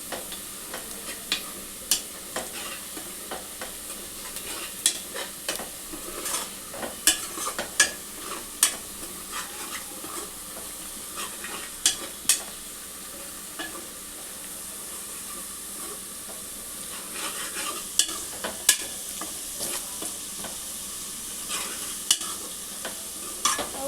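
Onions fry in a pan until golden brown, a steady low sizzle and hiss punctuated by frequent sharp clicks and scrapes of a spoon stirring, with no talking.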